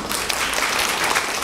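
A brief, dense burst of clapping from a group in a training session at a senior learning center, loud and even with no voices over it.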